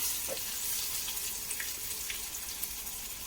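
Eggplant and potato sauté in a pan for a dried-fish potato-eggplant curry, giving a steady soft sizzle with faint hiss and a few light stirring clicks, close and continuous with no talk.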